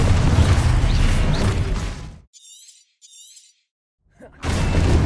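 Spell blasts from Expulso and Confringo in Hogwarts Legacy, a loud crashing, shattering burst with glassy debris lasting about two seconds, then a pause broken by short bright crackles and another burst.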